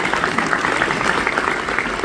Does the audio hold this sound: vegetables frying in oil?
no